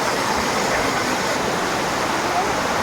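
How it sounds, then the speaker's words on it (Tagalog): Waterfall cascading down stepped rocks in a forested spot, a loud, constant broadband rush of falling water filling the whole clip without pause. "Kasi tingnan nyo ang waterfalls"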